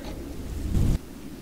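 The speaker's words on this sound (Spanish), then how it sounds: "Y todavía sigue lloviendo." Rain falls with a low rumble of thunder swelling toward the end before cutting off, leaving the steady hiss of rain.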